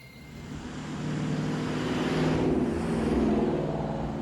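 Vortech-supercharged 2018 Ford Mustang GT (S550) engine building from a moderate drone into a louder, steady roar with a broad whine over it, heard without any talk.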